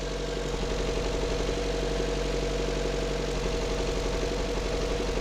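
A 2014 Chevy Volt's Ecotec engine idles with a secondary ignition misfire, giving a steady, close, low mechanical rumble with a faint irregular pulsing throughout.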